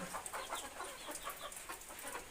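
A crowd of chickens in a poultry farm garden, clucking and squawking in overlapping bursts at moderate distance, soft but continuous with no speech.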